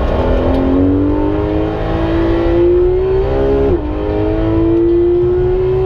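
Porsche 991 GT3 RS with a manual gearbox and the sport exhaust open, revving in third gear: a loud, close engine note climbing steadily across the whole stretch, dipping once at a brief lift before pulling on again.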